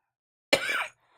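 A single short cough, close and sharp, breaks a silence and then stops.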